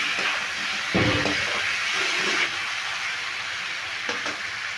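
A paste of turmeric, ginger and green chili fries in a pan, giving a steady soft hiss with a couple of louder scraping stirs near the start and end; nobody talks.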